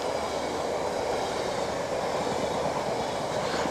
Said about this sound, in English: this one goes by, and it is a Freightliner